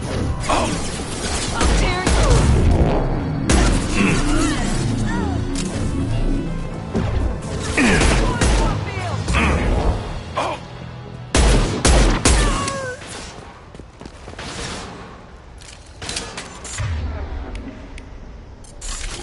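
Video game combat in Mass Effect 2 with high-impact gunshots, a series of sharp, loud blasts and crashing impacts in irregular bursts, mixed with whooshes and brief voice snippets.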